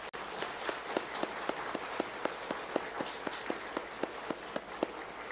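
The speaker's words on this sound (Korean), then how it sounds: "우리 성도님에게 인사하실 때 큰 박수로 한번 격려하겠습니다." Applause in a church congregation, with a few distinct claps standing out at a regular beat over a soft, diffuse spatter of clapping, moderately distant and without talk.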